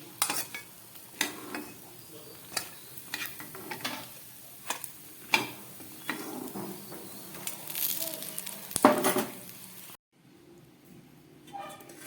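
Pumpkin flower fritters fry in hot oil with a steady crackling sizzle, broken by the repeated clicks and scrapes of a utensil stirring the pan before the noise drops away abruptly.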